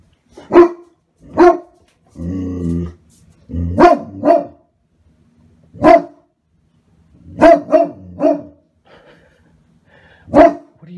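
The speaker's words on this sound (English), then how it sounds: "What are you barking at?" A Great Pyrenees barks loudly and close by, with about a dozen deep single woofs and short doubled barks spread unevenly across the stretch, separated by quiet gaps.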